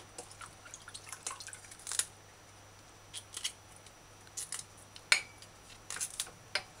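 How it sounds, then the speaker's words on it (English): Knife cutting broccoli florets off a large crown, heard as a series of short, crisp snips and taps spaced irregularly, close and fairly quiet with no talking. "Florets are the little thing that you see me cutting off."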